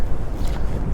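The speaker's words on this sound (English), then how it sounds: "excuse the wind, it's very windy here today." Heavy wind buffets the microphone in low, rumbling gusts, loud and continuous with no speech.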